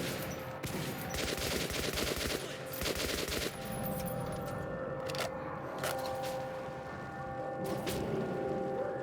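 Machine gun fire in the video game Metro 2033 Redux, loud sustained bursts in the first few seconds, then scattered sharp shots and clatter over a steady droning background.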